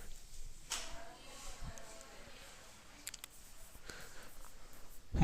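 Someone writes on a board during a geography class, faint, intermittent scratchy strokes close by, separated by quiet gaps.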